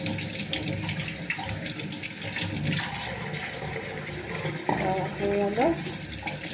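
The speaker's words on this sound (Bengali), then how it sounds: "পেঁয়াজগুলোকে একটু ধুয়ে নিই।" Tap water runs steadily into a bowl while onions are rinsed by hand, with splashing, shifting water noise and a brief spoken remark near the end.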